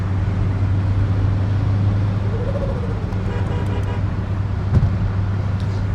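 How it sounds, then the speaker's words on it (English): A 90s turbo car idling, a steady low engine drone with a faint tone rising and falling and a brief knock near the end, no talking. "the car's idling great"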